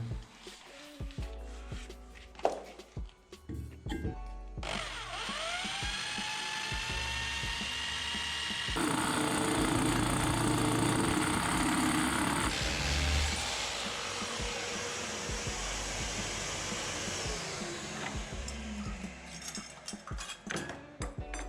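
A power drill with a hole saw whirs and bites into material in long sustained runs while cutting outlet openings in a new house, pitch shifting as it loads, with clicks and clatter before and after.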